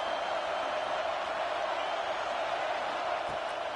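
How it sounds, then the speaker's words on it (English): A packed college football stadium crowd roars loudly to support their defense, a dense, unbroken wall of cheering and noise that holds at steady volume throughout. "Listen to this crowd just shaking the girders of this place trying to help their defense"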